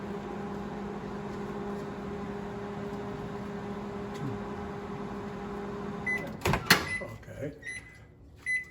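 A microwave oven heating cheese hums at a steady, even pitch for several seconds, then stops with a quick run of clicks and door clatter as a voice speaks briefly.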